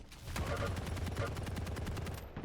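Rapid gunfire bursts from a shotgun in a competitive Quake-style arena match, loud and repeated, with a caster's voice talking over the action.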